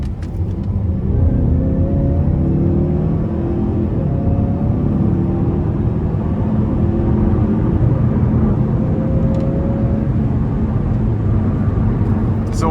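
A 2019 Mazda CX-5 Signature in sport mode pulls hard at full throttle from inside the cabin, its engine droning steadily upward through rising harmonics over a constant road rumble, loud and continuous with no talking.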